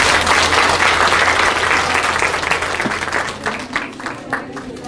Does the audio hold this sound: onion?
no